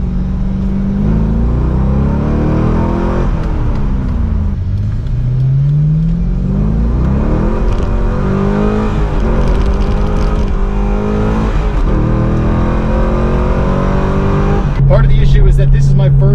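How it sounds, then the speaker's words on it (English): A C5 Corvette Z06 on new wheels and tires driven hard, its engine rumbling loud and steady as it revs up and down through several pulls from inside the car, with a sharp rise near the end. "I gotta get some temperature in these tires because it's not going to do it without a little bit of spirited driving."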